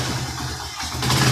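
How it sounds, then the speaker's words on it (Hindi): A Honda CD 70 motorcycle engine catches and settles into a steady, loud, close-up running note that swells slightly toward the end, with no voices. "मोटरसाइकिल स्टार्ट हो गया"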